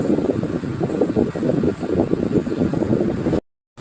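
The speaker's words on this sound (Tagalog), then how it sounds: "Medyo malakas yung hangin dito mga langga." Strong wind gusts along a rocky stream on a hike toward waterfalls roar steadily as a dense, rumbling rush buffeting the microphone, then cut off abruptly near the end.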